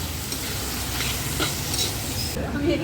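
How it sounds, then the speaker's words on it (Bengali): Four kilograms of meat frying with bay leaf, garam masala and chopped onion over an open fire, a steady close sizzle with stirring scrapes running throughout. "চার কেজি মাংস তার মধ্যে তেজপাতা আর গরম মশলা ফোড়ন আর পেঁয়াজ কুচি আর এটাকে ভালো করে ভাজা দিয়ে"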